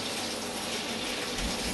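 Water runs steadily from a bathroom tap fitted with a flow sensor in a robot house, a continuous close broadband rush lasting throughout with no talk.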